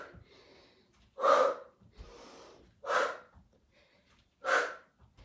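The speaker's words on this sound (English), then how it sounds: "I'm exaggerating the breathing so you don't forget" A person exercising breathes in deliberately exaggerated, heavy, forceful bursts, three loud sharp exhales spaced about a second and a half apart with softer inhales between, close to the microphone.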